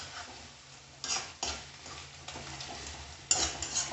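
Prawns frying in a pan for a prawn thokku curry while a spoon stirs them, with a soft sizzle and a few sharp scrapes and clinks of the utensil against the pan, close by.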